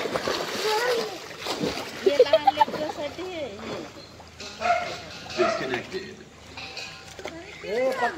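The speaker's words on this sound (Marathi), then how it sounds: "तो काय भुकतोय? कुठे गेला तो? कुत्रा आलाय दुसरा." A dog barks a few times in short bursts amid splashing water, while people talk nearby.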